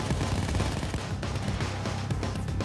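Sniper gunfire rings out in a Nintendo Switch video game. Continuous loud, dense shots and rumbling impacts fill the whole stretch with little pause.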